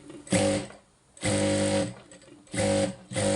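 A foot-pedal sewing machine stitches fabric in three short, loud whirring runs with brief quiet pauses between them, heard up close.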